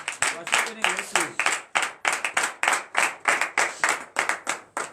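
A church congregation at a morning prayer service claps together in a steady, even rhythm of sharp, close claps, with voices singing or calling out underneath.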